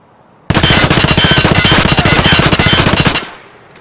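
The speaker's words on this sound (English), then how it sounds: "Now time for the Keter, the gun that's used most on factory." Kedr submachine gun in Escape from Tarkov fires one loud, rapid full-auto burst of about two and a half seconds that cuts off sharply, leaving a short fading tail.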